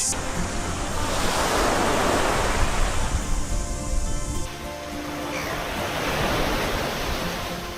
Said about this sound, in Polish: Na plażach koi szum fal